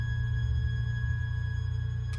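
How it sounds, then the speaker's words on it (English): An orchestral game-music piece built on a deep, sustained low tone, a steady rumbling drone with faint high held notes above it, fairly quiet and with no talk. "So we have an orchestral piece here."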